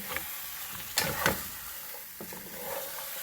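Curry cow foot with butter beans being stirred in a pot, a soft steady simmer under a couple of sharp spoon scrapes against the pot, close and fairly quiet with no talking.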